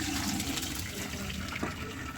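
Cooked vermicelli drains through a strainer for savige uppittu, with a steady rush of pouring water running throughout the short stretch, close and fairly soft.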